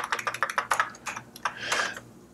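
Rapid bursts of keystrokes on a computer keyboard while entering assembler code, close and crisp, with uneven clusters of taps and short pauses and no voices.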